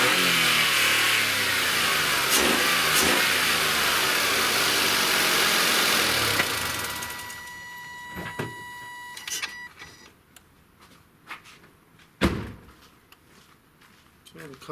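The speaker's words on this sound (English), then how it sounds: "So the car starts no problem with existing battery." A 1.1 litre car engine runs loud and close with a steady rumble, then cuts out after about seven seconds, leaving quiet clicks and a sharp knock.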